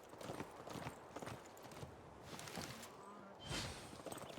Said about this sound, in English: Oh my god, so many horses.